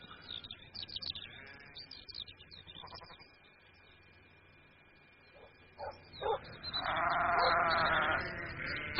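Sheep bleat repeatedly in a farm setting around shearing time, with a cluster of loud overlapping bleats building toward the end over a quiet background.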